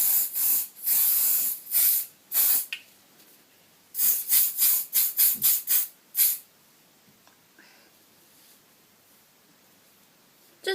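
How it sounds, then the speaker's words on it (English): An aerosol can of hairspray is sprayed onto hair in a run of short hissing bursts, some grouped in quick succession, loud and close, with a pause in the middle and no talk. "just grab my hairspray, shake it up, and then just spray this all over my hair"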